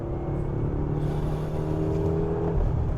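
A 2014 BMW M6 coupe accelerates smoothly, its engine holding a steady, close droning hum throughout with no voices over it.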